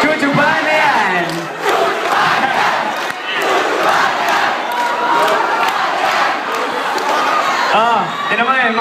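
A crowd at a game chanting and shouting together, loud and dense, with voices rising in waves and overlapping chatter throughout, close and continuous.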